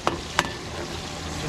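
Garlic sizzles steadily in a hot pan beside carrots and potatoes, with two quick scraping clicks of a utensil stirring near the start over the constant close frying hiss.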